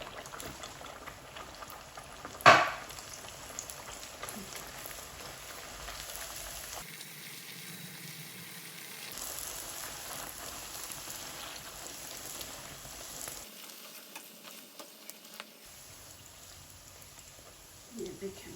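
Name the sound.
aloo suji puri frying in hot oil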